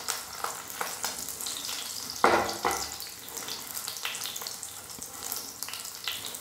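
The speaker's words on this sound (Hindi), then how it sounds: "थोड़ा थोड़ा डालकर भूनेंगे ताकि ये ठीक से फूल जाए अच्छे से इसमें" An ingredient for brain-boosting laddoos is roasted in a pan, added a little at a time until it puffs and turns white. A steady, close dry sizzle and rustle runs throughout, with a sharper stirring scrape partway through.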